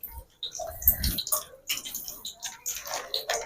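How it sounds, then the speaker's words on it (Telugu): Cooking oil poured into a pot during village cooking in Karamchedu: a close, trickling liquid pour with small splashy drips, uneven and fairly quiet, with brief pauses. "ఆయిల్ అయితే పోస్తున్నానండి"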